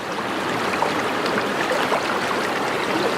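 A glove is rinsed in a stream while rockhounding in Washington State, with close, steady rushing and gurgling water filling the whole stretch and no voices.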